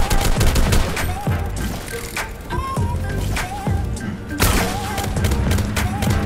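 Repeated sharp explosions and gunfire-like bursts in a Roblox Base Battles game, in quick succession, loud and busy, with short percussive hits layered over a dense action soundscape.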